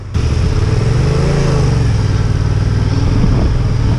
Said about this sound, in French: Putain, la moto, elle repart en troisième, c'est ouf.